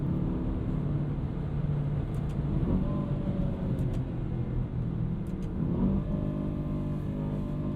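An Aston Martin DBX 707 SUV drives along winding roads, its engine a steady, deep rumble heard from inside, rising in a couple of gentle surges as it accelerates.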